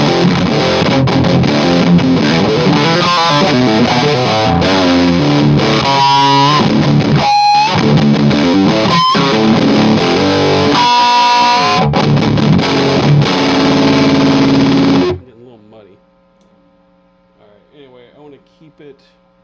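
Mooer Black Secret distortion pedal on an electric guitar, set near three o'clock with the filter turned high: loud, dense, buzzy distorted chords and riffs for about fifteen seconds, then cutting off to a faint hum and a few quiet picked notes.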